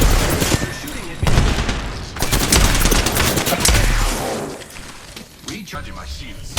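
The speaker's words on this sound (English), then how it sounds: "They're shooting at me." Loud, dense bursts of automatic gunfire and booms crackle in a shooter video game, with voices talking underneath.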